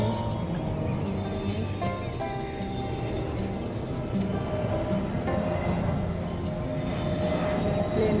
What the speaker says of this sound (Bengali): প্লেনটাও যাচ্ছে